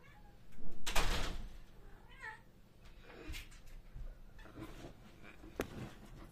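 A pet cat meows loudly and close by as it comes indoors, with a door knock or thump mixed in and quieter rustling afterward.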